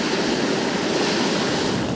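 Hot spring water gushes forcefully from the ground in Ladakh through geothermal activity, making a loud, continuous, close rushing roar with no voices.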